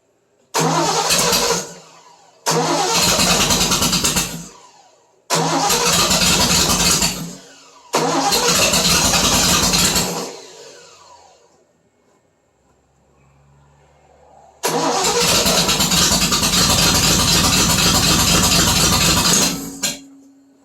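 A 1970 Triumph TR6 with its distributor timing off is cranked repeatedly in four loud starter bursts, then stays silent for a while, then one longer crank and run of about five seconds, heard up close.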